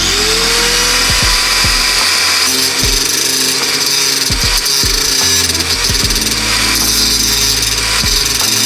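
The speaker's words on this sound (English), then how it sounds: "I'm going to grind off the bracket to make the clearance for the shifter." An angle grinder cuts away a metal bracket on a Proton Saga with a 4G93 engine. The tool runs loud and continuous, with a high abrasive whine and a few changes in pitch as it bites into the steel.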